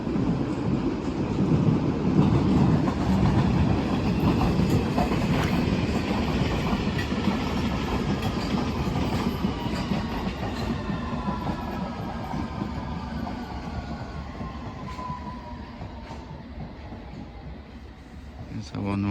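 A c2c train pulls into Barking station on its way to Upminster, a steady rolling rumble with rail squeal tones sliding downward as it slows, heard from the platform with some wind buffeting.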